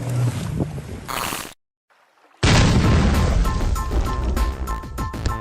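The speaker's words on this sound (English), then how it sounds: "2 people tried to flip the whale but ended up exploding it with a loud thud" A dead whale carcass bursting open on a beach with a loud thud, a sudden broadband boom after a brief silence, followed by sustained loud roaring and splattering noise with wind buffeting the microphone.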